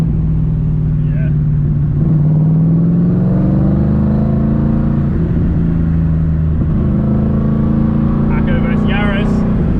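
A Hako car's engine drones steadily at a track, its pitch rising and falling as it revs through the gears, with people talking over it throughout.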